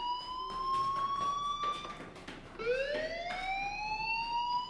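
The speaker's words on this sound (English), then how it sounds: "Hey, do you hear that fire alarm?" A school fire alarm rings inside the video game Life Is Strange as a loud, steady electronic siren tone that wavers and sweeps upward again after a brief break partway through.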